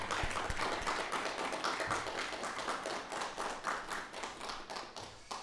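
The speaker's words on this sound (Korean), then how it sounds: "우리 같이 우리 하나님 앞에 박수를 올려드리겠습니다." A church congregation clapping steadily for several seconds during a Sunday service, a dense, even patter of many hands heard from a little distance.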